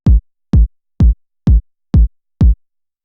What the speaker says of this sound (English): We'll work with a standard 909 kick that sounds like this.